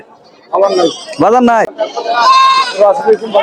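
Native goats bleat loudly several times nearby at a large goat market in Bangladesh, with bustling voices mixed in.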